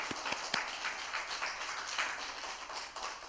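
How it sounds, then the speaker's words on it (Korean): Church congregation applauding in welcome during a Sunday morning service at a Holiness church, a steady mix of many hands clapping with a few sharper close claps standing out, sustained throughout. "박수로 우리 한번 환영하도록 하겠습니다"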